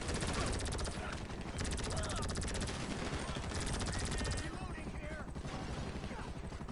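Rapid automatic gunfire rains down from a helicopter in GTA V Online, loud dense bursts of shots that hammer on continuously before thinning near the end, with game ambience underneath.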